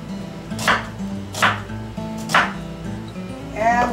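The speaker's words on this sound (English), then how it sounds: "And we're just gonna do these nice little lengthwise cuts." A knife makes lengthwise cuts through masala-seasoned chicken on a board, three sharp chopping strikes spaced about a second apart, close and clear over a steady low kitchen hum.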